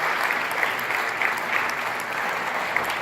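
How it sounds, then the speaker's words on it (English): An audience applauds steadily for honorees at a community education foundation event, a dense even clatter of many hands clapping that holds at full strength throughout. "One more time, please, round of applause for Sharon and Manesh."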